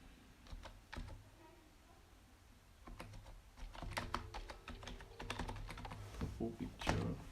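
Alt text being typed on a computer keyboard while building a web page, quiet close clicks in irregular bursts that grow busier and denser toward the end.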